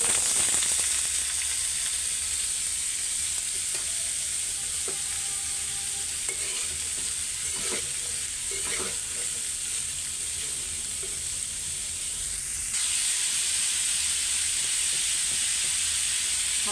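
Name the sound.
potato bhaji frying in hot oil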